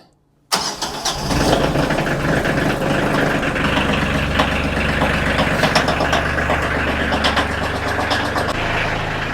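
A tractor engine catches after a moment of silence and settles into a loud, steady, rumbling idle to warm up, running close by without any talk.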